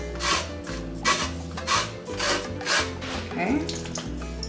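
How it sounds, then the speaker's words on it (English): A lime is zested on a grater, with rhythmic rasping strokes repeated at close range, about one stroke per half-second. A low hum runs underneath. "Zest of a lime."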